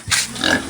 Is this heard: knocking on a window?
no